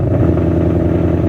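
A car engine running loudly and steadily right after a cold start, a rough mid-pitched idle close by that cuts off abruptly at the end, with no talking.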